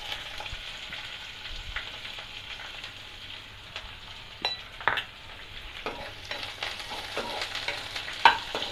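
Chopped onions sizzle and fry in a hot pan for rava kichadi, with a steady close crackle broken by scraping stirs and a few louder clatters of the spoon toward the end.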